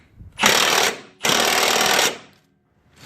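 Milwaukee power tool driving a ball joint into a 2004 Ford Escape's suspension, two loud, close bursts of harsh rapid hammering, the second longer, with a short pause between and silence after.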